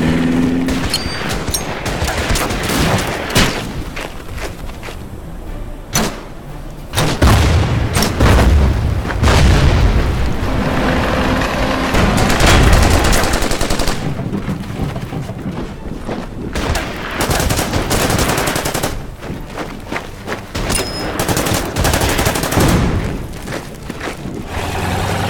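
Dense in-game artillery and gunfire from the WWII strategy game Order of Battle: Panzerkrieg as a German Nebelwerfer rocket launcher is destroyed: repeated loud booms and rattling volleys, nearly continuous for the whole stretch with brief lulls.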